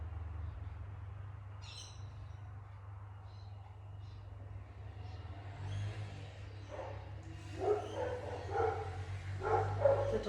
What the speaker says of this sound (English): The dog hates the postman.